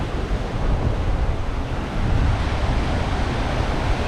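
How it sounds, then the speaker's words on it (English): Loud, continuous crash and wash of ocean waves on the shore at Pensacola, Florida, with gusty wind rumble on the mic. "There's some pretty nice waves out there."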